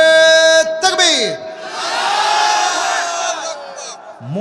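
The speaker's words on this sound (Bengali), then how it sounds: "বিবাহিত ভাইরা তাকবীর দেন।" A huge crowd of men at an Islamic mahfil in Kushtia roars a takbir together, a loud massed shout that swells and fades after a single amplified voice calls out.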